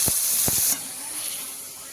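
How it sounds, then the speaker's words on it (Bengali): Water hits a hot pan of Malabar spinach and potatoes, giving a loud burst of sizzling hiss that cuts off sharply and fades to a quieter simmering crackle. "এখন পুঁই শাক আর আলু একটু কষানোর জন্য জল দিয়ে দিচ্ছি"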